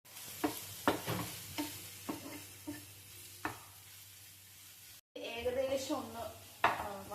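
Tomato and onions sautéing in a pan, with a gentle sizzle beneath repeated spoon stirs and scrapes against the metal, a short break, then louder clattering stirring near the end.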